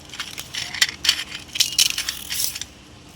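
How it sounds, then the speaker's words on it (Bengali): Dried lentil dumplings (bori) are broken up by hand in a kitchen, giving a run of sharp, crisp cracks and crunches close by, irregular in rhythm and free of talk. "আমি ভেঙে গুঁড়ো করে নিচ্ছি।"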